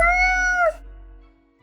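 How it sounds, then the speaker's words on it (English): A single clear, drawn-out cat meow from the video game Death and Taxes, close and clean, followed by a low fading hum. "Meow, the cat meows"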